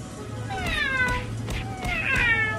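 A cat meows repeatedly indoors, several drawn-out, rising and falling calls one after another with no pause, fairly close and clear, over a steady low background hum.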